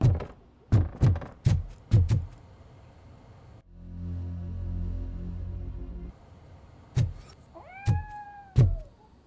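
A cat meows repeatedly in RoboCop Rogue City, short rising-falling calls in a loose rhythm at the start and end, with a low mechanical hum filling the middle stretch.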